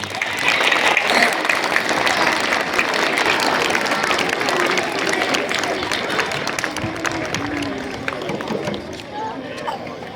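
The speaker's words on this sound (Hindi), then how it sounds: "एक बार और जोरदार ताली" A crowd at a local gathering in Lohardaga claps loudly and steadily for about ten seconds, with chatter and voices mixed into the sustained applause.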